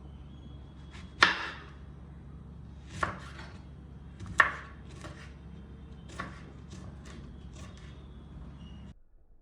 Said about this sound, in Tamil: எவ்வளோ பொடியாக கட் பண்ண முடியுமோ கட் பண்ணிக்கோங்க